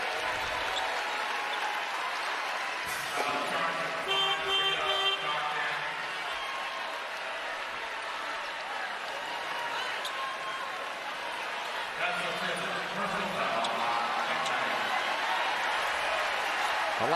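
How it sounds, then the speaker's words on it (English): A North Carolina women's basketball crowd stands and applauds a fouled-out player, sustained clapping and cheering filling the arena under commentators' voices. "she gets a standing ovation from the North Carolina crowd"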